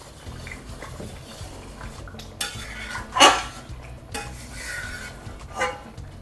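Thickening banana halwa is worked in a pan with ghee, a spoon scraping and knocking against the metal in uneven strokes, with one sharp clang midway, close up and with no voices.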